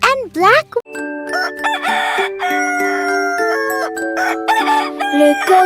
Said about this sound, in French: Le coq chante sans pour commencer la journée